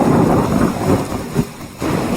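Heavy rain with rumbling thunder from the True Storms: Wasteland Edition weather mod in Fallout 4 on Xbox, a loud steady downpour with low rolling rumbles swelling and dipping, briefly quieter near the end.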